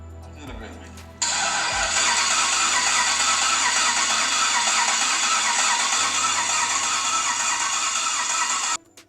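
Car engine being cranked by the starter during a relative compression test, a steady whirring drone lasting several seconds at close range before cutting off abruptly, with a few faint knocks at the start.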